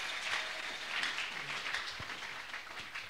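A church congregation applauding at a worship service, a steady wash of clapping from many hands at moderate loudness, with no voices over it.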